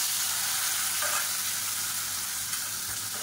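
Garlic and boiled potatoes frying in a pan, a continuous bright sizzle with a brief stirring scrape, steady and close with no talking.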